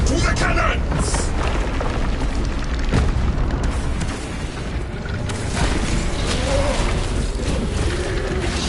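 Booming cannon blasts in a video game amid a dense, noisy battle din, with shouting voices mixed into the continuous roar.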